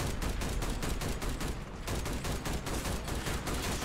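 Rapid automatic gunfire in a Crossout vehicle battle, a dense, loud stream of evenly spaced shots with a brief dip in the middle, sounding close.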